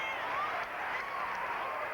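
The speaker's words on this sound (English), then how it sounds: "Big crowd urge him on." A large crowd at a 1982 Australian rules football match between Sturt and Glenelg roars in a sustained, broad wash of cheering, steady and loud throughout.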